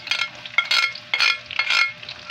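Onion and garlic frying in cooking oil in a pan for a Filipino pakbet, a bright crackling sizzle that surges and fades in several bursts with faint utensil scraping and no talk.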